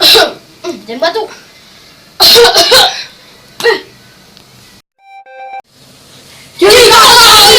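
A person coughs in several short, close bursts separated by quiet pauses, with a faint electronic beep and other vocal noises between them.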